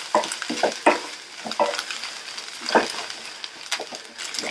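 Masala chickpea sundal with coconut being stirred and sautéed in a pan: repeated scraping stir strokes over a soft sizzle, close and fairly quiet, with no talk.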